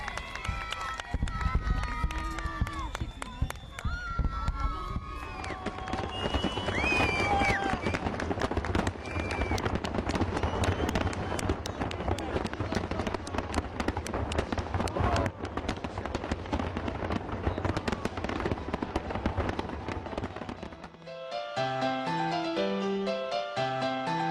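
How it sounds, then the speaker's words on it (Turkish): A continuous dense crackle and popping of a festival fireworks display in Istanbul fills the clip, loud and sustained, with a few whistling rises early on and music coming in near the end. "gece muhteşem havai fişek gösterisiyle coşkuyu bir kez daha arttırıyor."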